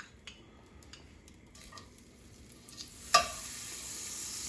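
Butter melting and sizzling in a frying pan that held scallops, a quiet steady hiss with a few soft clinks, ending in a sudden louder burst of frying.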